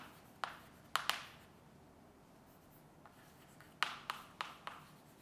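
Notes are written by hand during a school lesson: faint, scratchy strokes come in short clusters with quiet gaps between them.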